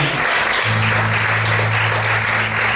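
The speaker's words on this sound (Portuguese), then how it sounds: "Vamos aplaudir ao Senhor Jesus nessa noite" Steady, loud applause from a church congregation fills the whole clip, a dense wash of clapping with a low sustained hum underneath.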